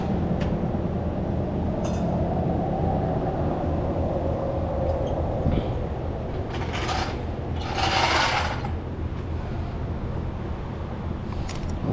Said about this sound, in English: let me just turn the fuel pump on